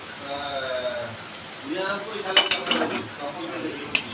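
A cooked papaya and hilsa head curry is served into a dish, with spoon clinks and scrapes against metal cookware while a person talks.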